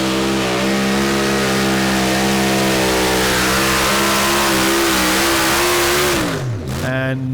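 Pulling tractor engine at a European Championship tractor pull in Norway, revving hard at full throttle: a loud, continuous roaring drone that holds steady, then drops sharply and flares briefly again near the end.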